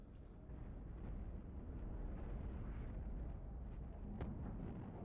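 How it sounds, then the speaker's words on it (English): A deep, sustained rumbling roar like a distant explosion in the video game Highfleet rolls on for several seconds, broken by a brief sharp crack near the end. "I thought that explosion I heard there, I was certain that was a kill."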